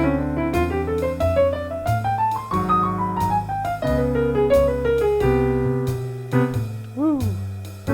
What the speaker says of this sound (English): The last example is over a long 2-5-1, and it sounds like this.